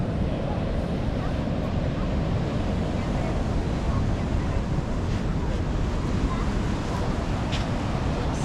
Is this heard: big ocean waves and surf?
yes